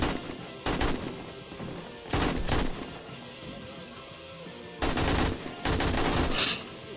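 Submachine gun fire in the survival game 7 Days to Die comes in four loud, rapid bursts, separated by quieter stretches of ambient game sound.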